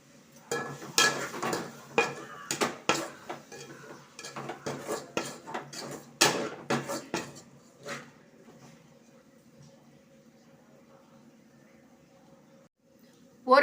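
Coriander and chilli powder sautéing in a pan for a fish curry, a rapid run of close metal spatula clatters and scrapes against the pan that trails off into a quiet low simmer.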